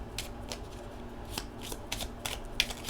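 Tarot cards are shuffled up close in quiet, crisp riffling bursts and soft slides, repeated irregularly with a sharper snap near the end.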